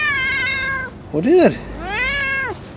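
A cat meows several times close by, with drawn-out whining cries and one sharper rising and falling yowl, while a person speaks briefly.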